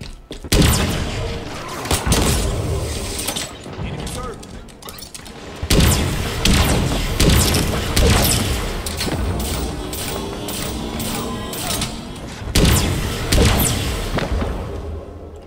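Halo Infinite firefight with loud, dense gunfire and heavy explosive thumps in repeated bursts, punctuated by sharp blasts across the whole stretch.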